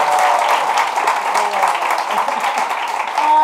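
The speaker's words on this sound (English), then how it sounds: "Can I get a round of applause for my mother?" A theater audience applauds for the speaker's mother, a dense wash of hand claps sustained evenly throughout and ending without a break.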